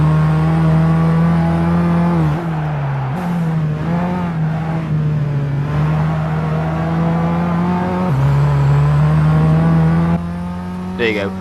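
A race car engine in Gran Turismo 5 at the Nürburgring drones loud and steady at high revs, with brief pitch dips at gear changes, close and continuous throughout.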